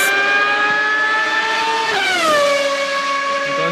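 Formula 1 race car from Sauber, a loud high-pitched engine whine held steady, then dropping sharply in pitch as it shifts down or passes close by, continuous and alone without voices.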